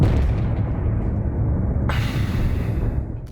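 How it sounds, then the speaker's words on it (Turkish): Heavy, sustained rumbling blasts of bombs exploding over apartment blocks in Mariupol roll continuously, with a sharper burst of crackling impact midway, loud and dense like explosions nearby. "Bombalar apartmanların üzerinde ardı ardına patladı."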